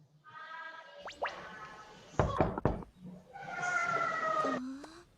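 Sharp knocks on a door in an animated Bible cartoon, a quick cluster of close raps in the middle, set between bright musical tones and playful sliding effects.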